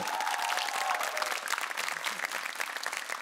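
An audience bursts into steady, dense applause on a French entertainment show, continuous clapping that carries on alone after a brief voice at the very start.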